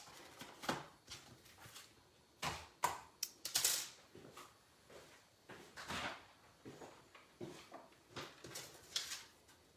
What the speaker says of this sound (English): So you're going to crank it through the stamp, cut, and emboss machine twice.